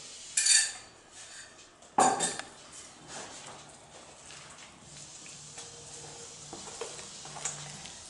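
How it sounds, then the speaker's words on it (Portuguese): Gluten-free, lactose-free, salt-free bread dough being stirred in a bowl, with two sharp clinks of a utensil against the bowl near the start and then softer, irregular scraping and stirring sounds. "Mexendo bastante para homogeneizar a massa"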